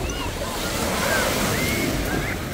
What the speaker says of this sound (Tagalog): marinig mo lang po yung agos ng tubig